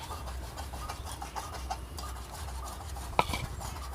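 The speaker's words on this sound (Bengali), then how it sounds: "আমি ময়দাটা এখন মাখিয়ে নেব" Soft, steady rubbing and squishing of flour dough being kneaded by hand with boiled potato mixed in, with one brief sharp knock near the end; close and fairly quiet, no talking.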